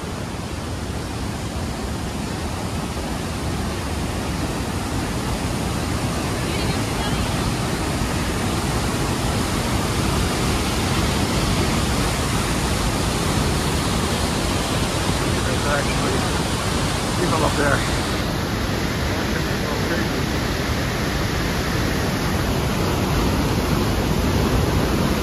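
Niagara Falls roaring at the Cave of the Winds in New York, a steady, loud, broadband rush of falling water that fills the whole stretch without a break, with faint voices now and then underneath.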